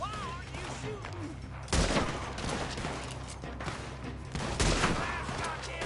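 Gunfire in a Red Dead Redemption 2 shootout, with two heavy bursts of shots standing out over a steady backdrop of game noise and a voice talking.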